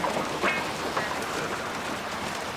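Steady rain pours in the Max Payne 2 video game, a dense, continuous wash of hiss with a few faint splashes, loud and unbroken, with no voices.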